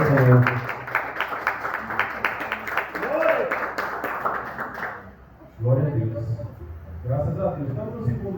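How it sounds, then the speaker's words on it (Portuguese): A church congregation claps in welcome for Jesus, a steady run of rhythmic applause that fades out, followed by a speaking voice. "Receber com palmas para Jesus"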